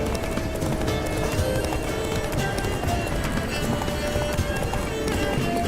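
Horse galloping in The Witcher 3, a quick steady clip-clop of hooves running continuously at moderate volume beneath a wash of ambient game sound.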